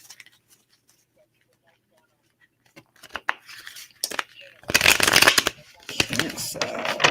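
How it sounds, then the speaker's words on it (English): A deck of cards being shuffled, a few riffling bursts growing louder toward the end, with quiet ticks and rustles beforehand. "One more shuffle for Cancer."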